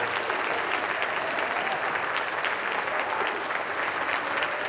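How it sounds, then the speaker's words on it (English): A crowd at an MLK Day 2025 event claps for a group of young people, a steady, even wash of applause sustained throughout with no voices on top. "So again, I'm going to do some quick round of applause and some more, right?"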